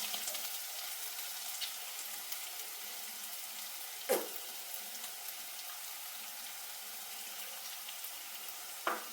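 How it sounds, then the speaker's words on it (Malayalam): Shallots frying in oil with salt for a Kerala-style chicken liver curry give a quiet, steady hiss, broken by two sharp utensil clacks. "ഉള്ളി നന്നായി വഴന്ന് വരട്ടെ, അതോടെ നമുക്ക് ഇളക്കി കൊടുക്കാം"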